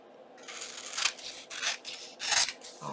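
Scissors trim a piece of book-page paper for a journal topper. Several close, crisp cutting strokes come in uneven bursts, each a rasping snip, with no talking.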